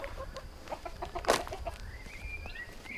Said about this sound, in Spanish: ahí tenemos las gallinas que aún siguen estando sueltas